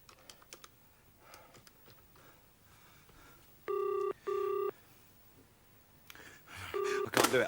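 A telephone is dialed at home, with faint clicks and taps followed by several loud, steady two-tone dial beeps in separate bursts, set against quiet room noise.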